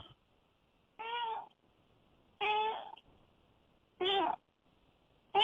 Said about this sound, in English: the cat sounds like she agrees